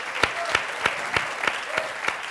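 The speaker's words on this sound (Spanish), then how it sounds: "Yo quiero pedir un aplauso para Carolina Iglesias," A comedy roast audience claps for comedian Carolina Iglesias, a sustained crowd applause with a few sharper, regularly spaced loud claps standing out near the microphone.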